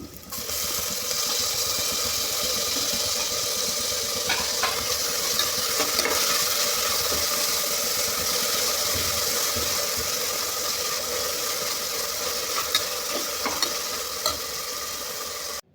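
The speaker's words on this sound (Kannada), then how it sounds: "ಈರುಳ್ಳಿ ಎಲ್ಲ ನೀಟಾಗಿ ಫ್ರೈ ಆಗಿದೆ ಈಗ ಟೊಮೊಟೊನ ಹಾಕ್ತಾಯಿದ್ದೀನಿ" Onions and tomatoes frying together in a pan for a village-style goat liver gravy, a steady dense sizzle running throughout with occasional faint stirring clicks, close and fairly loud, with no talking.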